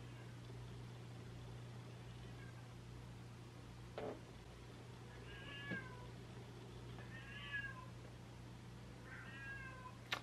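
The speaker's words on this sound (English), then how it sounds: "hear that? That's the cat." A cat meows faintly several times at spaced intervals over a steady low electrical hum, with a couple of soft clicks in between.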